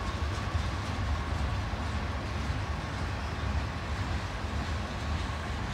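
Freight train crossing a rock viaduct at a power plant, a continuous heavy rumble and rolling clatter of railcars passing fairly close, steady throughout with no talk.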